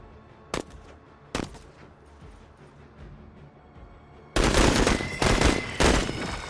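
Gunfire rings out in the Menace video game: two sharp single shots a moment apart, then a long heavy barrage of loud, close automatic fire.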